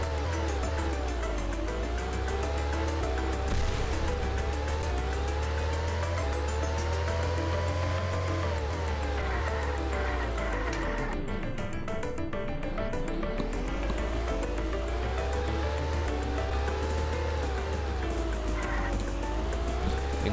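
In the YORG racing video game, a car drifts with a long tire skid over a loud, continuous engine whine that rises and falls in pitch, with no voices.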